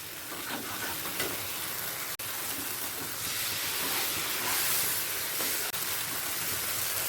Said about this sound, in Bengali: সর্ষে আর কাজু পেস্টটা দিয়ে টমেটোর সাথে একবার ভালো করে কষিয়ে নেব